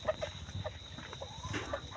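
Chickens at a rural home cluck in short, repeated bursts at close range over a steady outdoor hum, with no clear talk.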